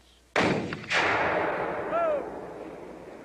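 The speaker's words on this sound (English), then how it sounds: "This is the light 12-pounder Model 1857 cannon, nicknamed the Napoleon" A light 12-pounder Napoleon Model 1857 field cannon fires during a Civil War artillery drill, giving one loud boom, a second blast-like surge and a long rolling echo, with no talk over it.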